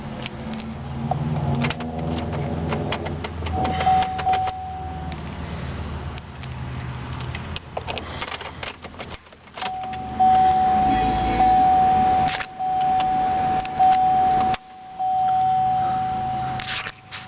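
A 2008 Chevrolet Cobalt LS coupe with 79,911 miles cranks and fires up, settling into a steady close idle, with dashboard chimes beeping repeatedly over the engine while someone talks.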